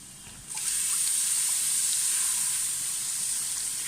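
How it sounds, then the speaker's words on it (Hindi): Milk poured into a frying white sauce for chicken pasta, a sudden loud bubbling hiss and sizzle that surges in and holds steady, close and alone. "विद इन 30 सेकेंड हम यहाँ पे ऐड करेंगे दूध।"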